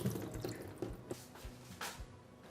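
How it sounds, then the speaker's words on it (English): Running tap water rinses tofu in a kitchen sink, a close, steady trickle and splash with a few distinct drips and plops breaking through the flow. "Remove any excess water and rinse clean."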